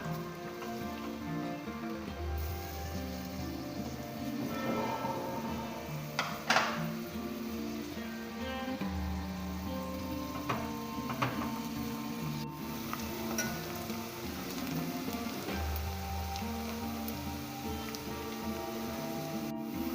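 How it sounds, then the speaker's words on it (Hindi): Onions frying in a pan for a chicken liver (kaleji) curry give a steady crackling sizzle, with occasional sharper spatters and light clinks of stirring. "प्याज को ज़्यादा नहीं भूनेंगे, हल्का लाइट ब्राउन होने तक इसको भूनेंगे"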